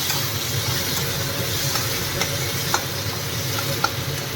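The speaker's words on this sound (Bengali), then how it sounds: "ফাইনালি এখানে ক্যাপসিকামটাও ফ্রাই হচ্ছে" Onion and capsicum sizzle in a hot pan while being stirred, a continuous dense frying hiss with faint scraping clicks of the spoon, moderately close and steady with no voices.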